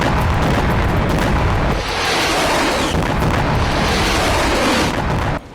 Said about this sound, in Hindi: उत्तरी इजराइल में एक के बाद एक कई धमाके हुए